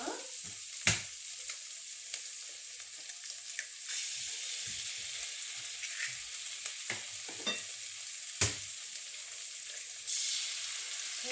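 Two eggs cracked into a hot pan and frying, a constant bright sizzle with a few sharp taps and scraping stirs over about eleven seconds, with no talk.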